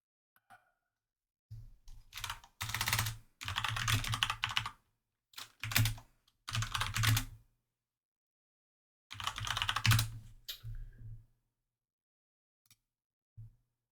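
Computer keyboard typing in a classroom setting, heard as several short bursts of clattering keystrokes separated by pauses, close and fairly quiet, with no voices.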